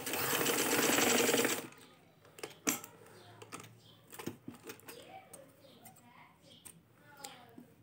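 A sewing machine stitches a trouser seam in a loud, steady burst for the first second and a half, then stops. Faint clicks and handling sounds follow, and someone speaks quietly afterward.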